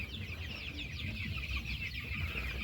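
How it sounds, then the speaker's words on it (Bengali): A flock of 12-day-old poultry chickens clucks and cheeps continuously at moderate distance over a low background rumble, soft and busy with no talking. "এগুলো আমার পোলট্রি মুরগি।"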